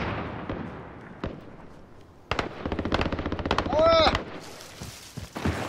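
Rapid automatic gunfire from a Call of Duty Warzone match, loud bursts of rattling shots with a brief louder burst in the middle, under a player's short shout.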